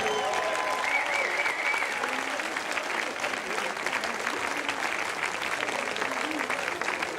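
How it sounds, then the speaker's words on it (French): Steady, dense applause from an evening guinguette crowd at Saint-Flour, sustained and loud throughout with some voices mixed in. "Je vous demande de l'applaudir très fort, s'il vous plaît."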